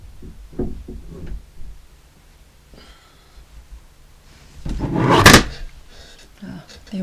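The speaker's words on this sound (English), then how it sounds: "I've got to go and put something underneath my door because I've got my window open and the door keeps going tick tick tick tick." Near, loud thumps and knocks come as something is wedged under a door that rattles in the draught from an open window, with one big scraping bang midway and breathing between.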